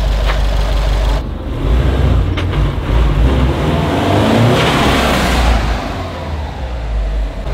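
A Subaru engine revs hard with a closed airbox and a tight-spring turbo blow-off valve, giving a loud, steady roar that surges and eases over several seconds, with brief whooshing bursts breaking through and no talking.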